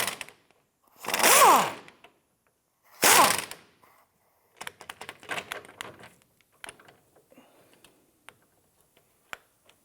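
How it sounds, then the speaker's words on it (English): Ratchet with an 18mm swivel socket working a rusted bolt loose: two loud, grinding creaks, then a quick series of clicking ratchet strokes tapering into sparse ticks, close and unaccompanied by talk. "We're going to use an 18mm swivel. And we're just going to snap the rust off like that."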